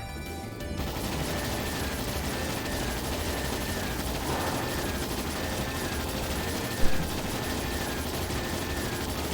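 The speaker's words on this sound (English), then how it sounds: "All ships fire." Ships fire on a dragon in the role-playing game Trails in the Sky SC: a dense, unbroken barrage of rapid shots and blasts roars steadily for the whole stretch, with one sharper crack standing out near the end.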